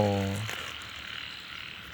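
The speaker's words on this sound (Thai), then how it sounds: "เจ้ากบนะครับ" A frog gives a loud, close croak at the very start while being caught by hand near water, followed by a quieter, noisy background with faint splashing.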